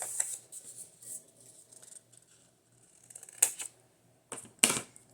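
Quiet snips of scissors cutting a paper triangle for a junk journal come in a few short, crisp bursts, close by, with soft rustling between them.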